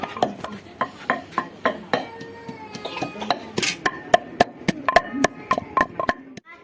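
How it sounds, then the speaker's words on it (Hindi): Ginger and garlic being pounded for a fish dish: a steady series of sharp, close thuds, roughly two or three a second, continuing throughout with brief faint voices in the background. "ये कूटे जा रहे हैं अदरक और थूम"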